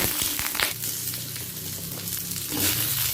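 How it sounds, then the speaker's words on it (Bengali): Potatoes frying in mustard oil in a wok, a dense crackling sizzle with bursts of spattering and a few utensil knocks, close and moderately loud. "প্রথমে আলুটাকে ভেজে নিচ্ছি"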